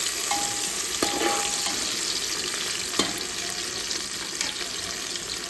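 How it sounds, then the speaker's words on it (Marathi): Onion sautés in hot oil for a chicken biryani, a continuous hissing sizzle with a brief tonal beep and a couple of utensil knocks near the pan. "तेलामध्ये मस्तपैकी परतून घ्यायचं आहे"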